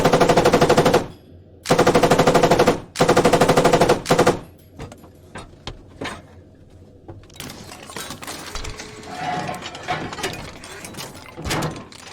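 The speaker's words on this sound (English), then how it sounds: "Switching to the T-72's coaxial machine gun cancels in-progress main gun reloads" T-72 tank coaxial machine gun firing in the video game Squad, two loud sustained bursts of rapid automatic fire, then quieter mechanical clatter and background battle noise.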